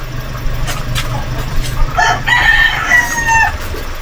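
Heritage chickens being moved into a farm coop cluck and give short crowing calls over a constant background hum, fairly close and moderately loud.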